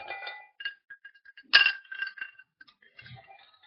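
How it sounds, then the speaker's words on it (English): Ice cubes drop into a clear drinking glass, giving a series of bright, close glassy clinks and rattles, one sharp louder strike in the middle, with no voices. "and you are going to add ice cubes to it."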